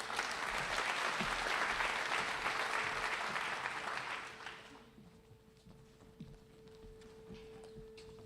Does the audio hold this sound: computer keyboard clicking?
no